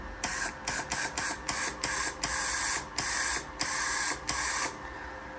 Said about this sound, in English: if we turn the gas on, you better hear the gas come through